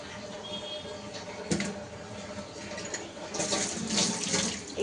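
Water runs from a tap in a home kitchen as a container fills, a steady close splashing hiss with a clunk midway and the flow growing louder toward the end.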